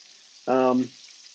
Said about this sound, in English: we're just going to let that sizzle here for a minute